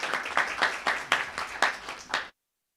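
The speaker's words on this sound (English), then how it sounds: "Round of applause," A modest audience applauds a panel on AI in South Africa's creative economy, soft steady clapping from a small crowd, somewhat distant, ending abruptly in silence.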